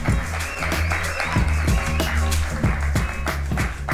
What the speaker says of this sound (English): Kenor, would you mind joining me on stage to this thunderous round of applause?